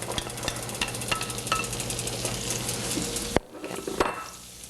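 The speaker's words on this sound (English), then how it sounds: "we're going to just quickly saute the onions" Onions sauteing in margarine in a preheated pan over raised heat, a steady close sizzle with light scraping clicks that cuts off sharply near the end, leaving a quieter tail.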